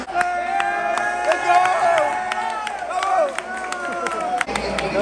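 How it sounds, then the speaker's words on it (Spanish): Crowd clapping at a UFC fight viewing, sharp scattered claps over loud speech and a busy room. "Empecé esos aplausos."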